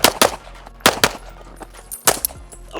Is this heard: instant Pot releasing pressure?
no